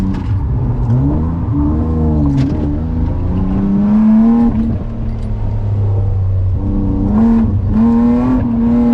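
A BMW E36 drift car with a welded differential revs loudly and continuously at a drift event, its engine note rising and falling in pitch as it is pushed through a turn.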